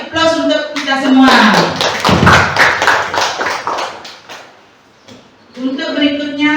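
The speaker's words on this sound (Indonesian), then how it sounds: "Mari kita kasih aplaus untuk kita semua." Teachers at a school gathering break into a few seconds of clapping that swells over and mixes with ongoing talk. Voices are heard before and after the applause.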